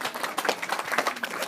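A church congregation bursts into applause during a sermon, a dense, even patter of many hands clapping at once throughout, fairly close and without talk.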